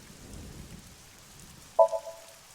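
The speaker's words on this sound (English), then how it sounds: "I can't see it well in the rain." Rain falls in AI: The Somnium Files as a faint, steady hiss under a low rumble, with a short tonal chime near the end.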